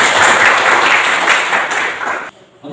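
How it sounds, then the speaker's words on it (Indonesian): Classroom applause after group discussion presentations, a dense burst of many hands clapping loudly for about two seconds before stopping abruptly, with a few scattered claps trailing after. "Berikan aplaus dulu untuk semua."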